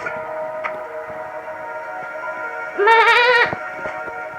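A single wavering Minecraft sheep bleat, about half a second long, rises over a steady droning game soundscape with faint ticking.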